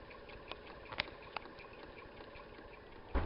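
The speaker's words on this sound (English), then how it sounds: "This is a generator running in the delta formation." A motor drives a three-phase permanent magnet generator wired in delta and loaded by a charger, giving a low steady running hum with a few faint clicks and knocks and a louder bump at the end.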